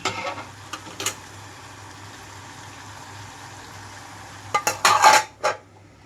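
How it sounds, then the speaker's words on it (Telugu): A lid goes onto a pot of eggplant and tomato curry with a couple of sharp metallic clanks near the end, after quieter scattered clinks over a low background hum. "మూత పెట్టేస్తున్నాను"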